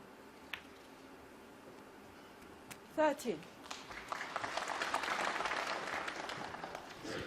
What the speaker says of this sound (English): Getting applause even for easy shots.